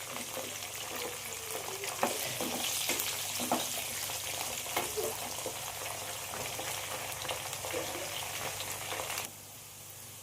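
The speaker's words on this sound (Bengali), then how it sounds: "এবার আমি ফুলকপি আর আলুটা ভেজে নেব একসাথে।" Steady, dense sizzle of cauliflower and potato frying in hot oil with occasional crackles and spatula scrapes, cutting to quieter sizzling near the end.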